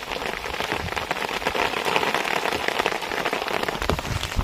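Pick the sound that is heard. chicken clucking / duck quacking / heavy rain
heavy rain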